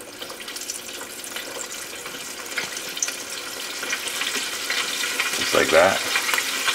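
Fish coated in flour frying in hot grease for Southern fried fish, a steady broadband sizzle running throughout with a louder, bubbling surge near the end as pieces go in, under a brief spoken remark.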